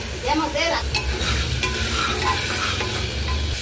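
Loud, close sizzling of ingredients frying in a pan for a gedal (plant) soup, with continuous stirring and scraping over the hot oil throughout.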